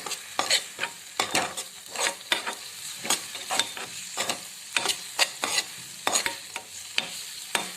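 Cashews, chopped almonds and a few pistachios frying in a pan, stirred with repeated sharp scraping strokes over a steady sizzle, close and fairly loud, with no voices.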